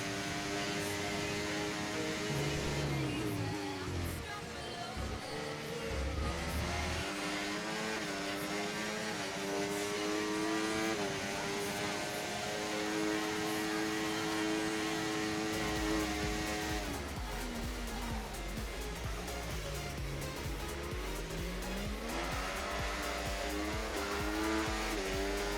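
Formula One racing car engines in the video game F1 24 at Austria, a steady high-pitched engine whine rising and falling through gear shifts, with rival cars close by and no talking over it.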